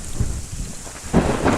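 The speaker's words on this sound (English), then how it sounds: "And a big lightning flash and noise." Heavy thunder rolls through a severe thunderstorm lashing the southeastern US, near Folkestone, Georgia, with steady rain underneath; a continuous low rumble swells into a louder crack and boom partway through.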